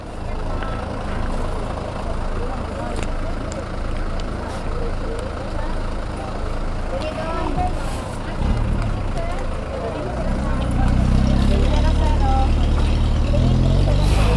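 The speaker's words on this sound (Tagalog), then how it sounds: "Nakaharang yung truck eh." Low, rumbling engine of a truck on a road, steady and close, with a heavier rumble swelling near the end, under background voices and traffic noise.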